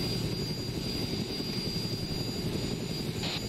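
Helicopter in Arma 3 sitting steadily nearby, a constant low engine and rotor drone with a faint high whine, no voices over it.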